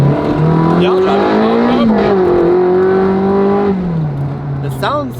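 A fast car's engine revs while being driven, the throaty note climbing and falling in smooth sweeps close by and loud, then easing off toward the end.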